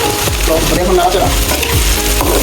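Spices sizzle hard in a hot pan with apple vinegar and salt just added, a dense continuous crackle with a few scraping stirs, close and loud, no voices.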